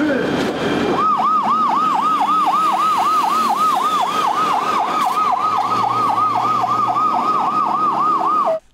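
A fire engine's electronic siren wails in a steady, rapid up-and-down cycle as the crew leaves for a village fire in Vladimir region, Russia. It is loud and close, runs continuously for several seconds and cuts off abruptly at the end.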